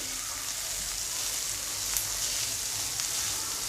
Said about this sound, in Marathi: आता गॅस फास्ट करते जरा आणि व्यवस्थित असं परतून घेते